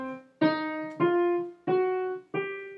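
Five separate keyboard notes climb steadily up the C blues scale, each struck cleanly and held about half a second, bright and close with no talking.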